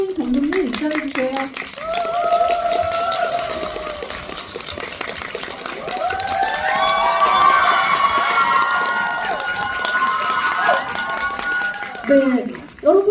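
An audience at a Korean film talk event greets the entering actress and director with loud, continuous clapping and rising cheers and shouts that swell midway, with voices mixed in.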